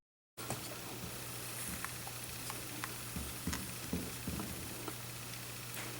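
Butter for chicken piccata sizzles in a pan: a constant, soft crackling hiss with small scattered pops, fairly faint and steady.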